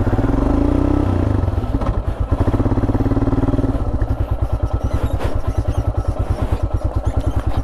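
Royal Enfield Himalayan motorcycle riding off-road over slippery grass, its single-cylinder engine thumping loud and close in a steady pulsing rhythm that rises and falls with the throttle, with occasional clatter.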